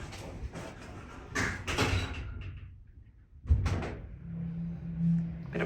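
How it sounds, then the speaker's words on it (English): An Otis elevator door operator at the Marriott Grande Vista slides open or shut in a series of whooshing, rumbling movements, followed by a hum and a thud partway through, close and moderately loud. "Almost sounds like a ThyssenKrupp door operator there."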